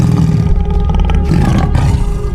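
A loud, close tiger roar used as a story sound effect, rumbling and deep, rising into a couple of harsh growling bursts that fill the whole moment.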